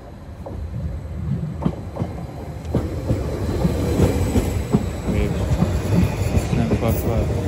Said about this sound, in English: Now the plan is the 1420 Greater Anglia service to Cambridge.